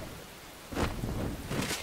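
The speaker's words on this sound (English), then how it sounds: "It's raining. Again." Rain falls in the survival video game Enshrouded, a steady broadband hiss that swells in suddenly partway through and holds at moderate loudness, with a brief surge near the end and no talk.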